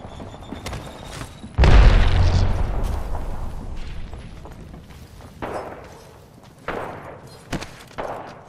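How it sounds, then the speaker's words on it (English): A grenade goes off in a video game with a single heavy, booming blast that fades out slowly, followed by a few scattered thumps and gunfire-like hits nearby. "Grenade!"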